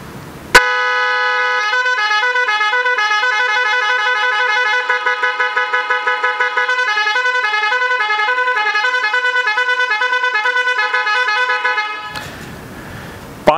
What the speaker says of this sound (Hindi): इस कदर ऊंचे हॉर्न है कि हॉर्न बाकायदा उछल रहे हैं